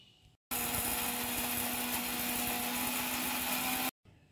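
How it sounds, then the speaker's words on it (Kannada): Mixer grinder powdering masala tea spices with dry ginger, a loud, steady motor whine and rattle running for about three and a half seconds between short silences, with no talking. "ನಾವೀಗ ಇದನ್ನು ಪುಡಿ ಮಾಡ್ಕೊಳ್ಳೋಣ"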